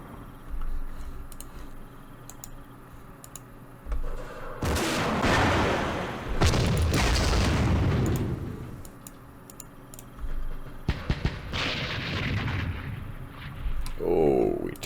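Gunfire and explosions from units in the Vietnam War strategy game Campaign Series Vietnam, during the Battle of Hue: a broad sustained burst of shooting, then sharper scattered shots, over quiet game ambience.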